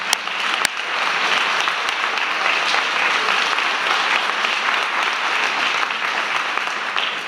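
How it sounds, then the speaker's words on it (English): Warm, sustained applause from an audience at a school rededication ceremony for T.C. Martin Elementary, dense and steady across the whole stretch with a few sharper claps standing out near the start. "Please join me in a warm, welcoming applause."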